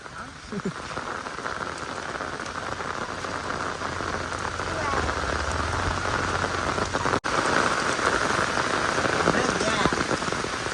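Heavy rain pours steadily onto hard surfaces on flooded, traffic-jammed roads in Bhiwandi, a dense continuous hiss and patter with a brief dip partway through.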